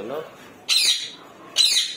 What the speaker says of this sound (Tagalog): Napakaingay nung bagong bili rin natin na ibon.